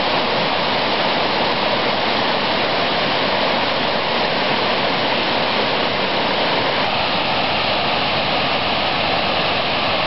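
A New Hampshire waterfall and stream pour in a steady, loud, unbroken rush of water that fills the whole scene close by, with no voices.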